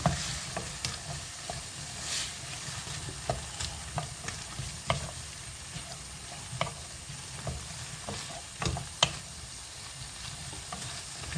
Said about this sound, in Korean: 이렇게 해서 한번 뻘겋게 볶아 보도록 하겠습니다